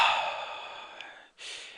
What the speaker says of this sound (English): let me take a deep breath